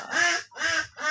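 Three loud, nasal duck quacks close by, evenly spaced in a steady rhythm with short gaps between them, at a farmyard kept alongside gamecocks.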